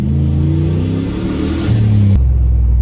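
Turbocharged 1991 Dodge Dakota engine rumbling loud and close while driving, a deep low drone with shifting tones under light throttle that drops into a heavier, lower hum near the end.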